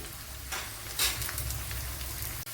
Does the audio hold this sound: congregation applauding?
no